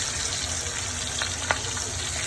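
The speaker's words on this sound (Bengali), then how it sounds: "সবগুলো পিস তেলের মধ্যে দিয়ে ভালো করে ভেজে নেব।" Rohu fish pieces fry in hot oil in a steady, close sizzle with faint crackles and one sharp tap or stir near the end.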